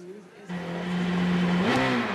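Sébastien Loeb's rally car, with co-driver Daniel Elena, launches from a stage start at Rallye de France Alsace 2013, the engine note holding steady then climbing sharply as it accelerates away, loud and close, with a voice speaking over it.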